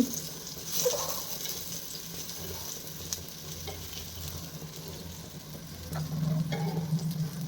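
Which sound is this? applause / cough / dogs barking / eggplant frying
eggplant frying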